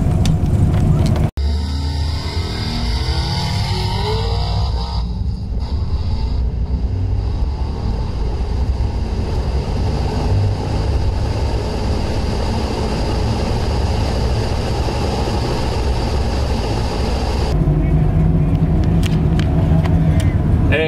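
Drag racing cars at a Flashlight drags event in Waynesburg, including a Chevy Nova, make a loud, sustained engine roar that swells and holds over the whole stretch. A voice talks faintly under the noise.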